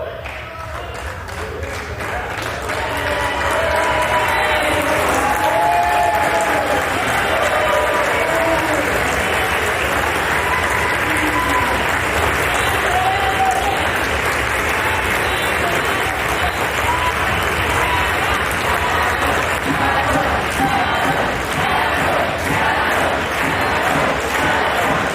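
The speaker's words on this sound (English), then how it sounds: "Here is a clip of the Democrats cheering for Congressmember Adam Schiff as he presents himself" House Democrats on the House floor cheer and applaud for Adam Schiff in a sustained, loud wave of clapping and crowd noise that holds steady throughout.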